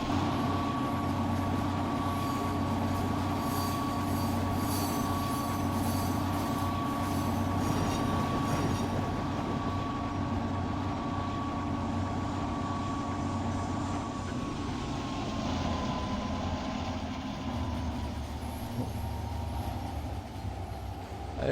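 Freight train rolling along rails in Trainz: A New Era, a steady loud rumble of wagons with a sustained wheel squeal across most of the run, no talk over it.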